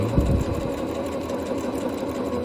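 A sewing machine runs steadily through a pant seam on a shirred waist pant, a continuous close whir holding even for a couple of seconds with no talk.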